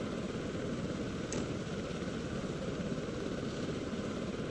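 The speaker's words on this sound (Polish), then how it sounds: "Lubię helikopter, bo można nim fajnie driftować pomiędzy te." Helicopter in a Minecraft aircraft mod, a steady droning rotor and engine roar that holds constant and loud throughout with no breaks.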